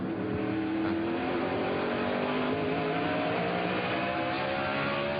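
Onboard engine of a race car at the 2003 Virginia 500, a loud, steady close-up drone that rises and falls slightly as the throttle is feathered, with no talk over it.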